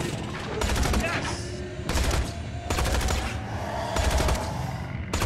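Video game gunfire: several rapid bursts of automatic fire crackle out in quick succession, separated by short pauses, with the fire sounding fairly close.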